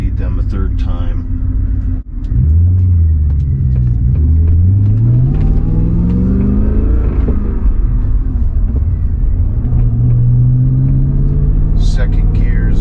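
A restored BMW car engine rumbles loudly and steadily as the car drives, with revs rising and falling through gear shifts and a stiff second gear, the note sweeping up and dropping back several times.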